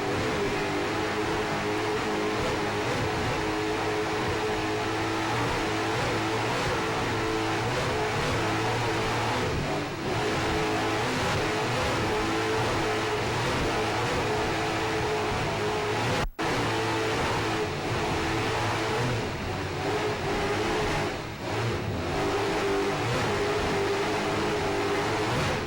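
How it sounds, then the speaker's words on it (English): Mercury Super Cat engines on a racing powerboat scream steadily throughout, a loud, continuous high-revving roar heard on board at the start of a race, with wind and spray noise mixed in and no talking. "Hear those Mercury Super Cat engines screaming"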